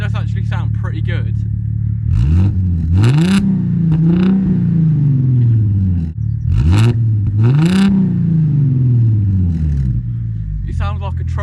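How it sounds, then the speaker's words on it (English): An Audi S4 with a very loud exhaust idles with a deep rumble, then is revved sharply several times in two bursts, each rising and falling back, with a steady idle between them. "So this car is already stupidly loud."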